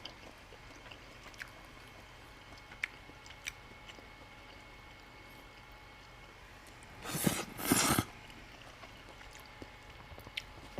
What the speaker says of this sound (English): slurping is polite when you're eating noodles in Japan